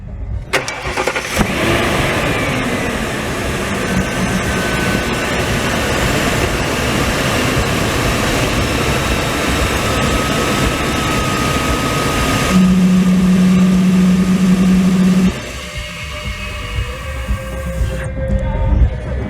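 1999 Ford E250 van with a Triton V8, its seized AC compressor bypassed, cranks briefly and catches, then idles loudly and steadily nearby with a rising whine for a few seconds before settling back to idle.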